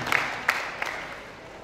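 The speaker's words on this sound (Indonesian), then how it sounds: "sekali lagi kita beri tepuk tangan yang meriah untuk acara kita pada malam hari ini" Audience clapping at an evening ceremony marking the 55th anniversary of KADIN, the chamber of commerce and industry, in Dumai: steady, moderately distant applause with a few sharper claps near the start that slowly fades.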